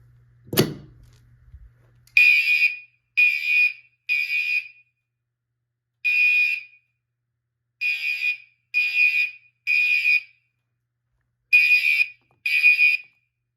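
Fire alarm horns sound during a zone 1 test of an alarm panel with a 270 pull station: after a sharp click, loud electronic blasts come in short evenly spaced bursts with brief gaps, about nine in all.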